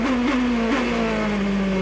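A 2007 GP2 race car powers out of a corner at the Spanish round, its engine note holding a strong, steady high-pitched tone that bends slightly as the throttle is fed in, loud and close throughout.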